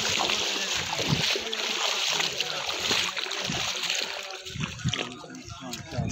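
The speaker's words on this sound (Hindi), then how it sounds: "ये देखे पहाड़ से पानी निकल रहा है" Water running and splashing from a small mountain spring near a dam, continuous close rushing and splatter mixed with brief voices.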